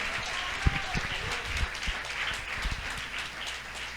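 Steady applause from a church congregation during a Sunday sermon, continuous and moderately loud, with a few sharper claps standing out.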